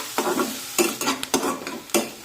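Chopped onion is sautéed with curry leaves in a pan over a raised gas flame, with steady sizzling and four or five rhythmic scrapes of a spatula, close and fairly loud, with no voices.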